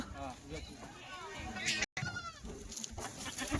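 Kathiawadi goats unloaded from a vehicle bleat loudly and repeatedly in wavering cries, close by, while people talk over and between the calls.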